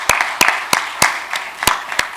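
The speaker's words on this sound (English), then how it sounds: "let's give them a round of applause" A small audience at a community meeting gives scattered applause, a handful of separate sharp handclaps spaced unevenly over about two seconds, with no voices.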